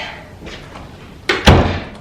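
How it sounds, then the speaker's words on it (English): A front door swings shut with a solid thump followed by a louder close, heard indoors near a laundry area over faint room noise. "I'm just going to close that front door."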